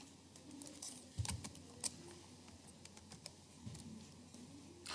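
Someone types a zip code into a Google search on a computer keyboard: soft, faint keystroke clicks in an irregular patter with a few louder taps, heard alone in a quiet room.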